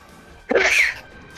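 A single sharp human sneeze, close and fairly loud, with a short gasping intake followed by a bright, breathy burst lasting about half a second.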